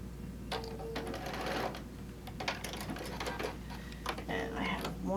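A sewing machine stitches a small quilt tack in short bursts of rapid mechanical ticking, separated by pauses, with a voice talking around it.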